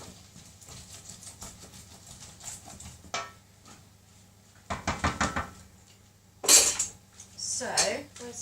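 Cutlery and dishes clatter while crispy chilli beef is dished up: scattered light clinks and scrapes, with a cluster of taps in the middle and a couple of louder bright clatters near the end, over quiet background hum.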